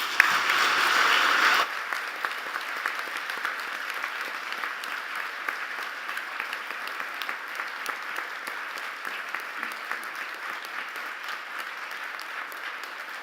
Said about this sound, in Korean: 올해 수상자분들께 다시 한번 큰 박수 부탁드립니다